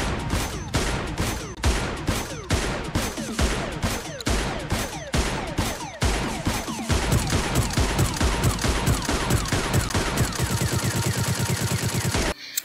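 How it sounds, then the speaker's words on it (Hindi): Sniper rifle shots from PUBG Mobile fire one after another, loud and close, starting as evenly spaced sharp cracks and speeding into a dense, rapid string of blasts near the end. "यहाँ पे 3 किस्म के स्नाइपर के साउंड्स हैं"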